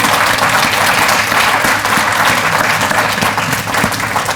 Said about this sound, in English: should we start with a round of applause? Because that's a nice panel